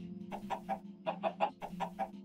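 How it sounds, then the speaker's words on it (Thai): Minecraft chicken ambient clucks coming from a player head: a quick run of about eight short, mid-pitched clucks in two bursts, close and clear over a low steady hum, with no talk. "หัวคนแต่เป็นเสียงไก่"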